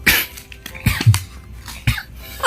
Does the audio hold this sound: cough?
yes